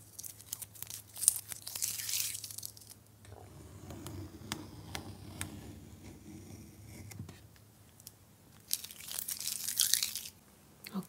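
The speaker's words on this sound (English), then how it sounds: "I am going to remove the masking tape" Masking tape peeled from watercolour paper in several slow tearing pulls with crinkling, close and clear, separated by quieter pauses.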